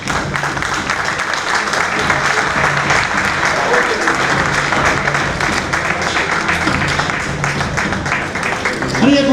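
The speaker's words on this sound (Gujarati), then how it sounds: "ફરી એક વખત તાળીઓથી આપણે આ સન્માનને વધાવીએ" Sustained applause from an audience at an honouring ceremony, steady and dense clapping throughout, with a brief swell near the end.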